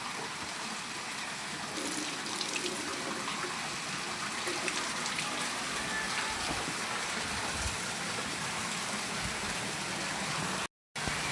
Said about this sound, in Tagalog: Ang lakas ng tubig ng ating pagdidilig.